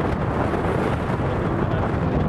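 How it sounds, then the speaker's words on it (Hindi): Strong wind gusts buffet the camera microphone at an outdoor cricket match, a loud, steady broadband roar and rumble with no break throughout. "इसी बीच काफ़ी तेज हवा के झोंके कैमरे हिला रहे हैं।"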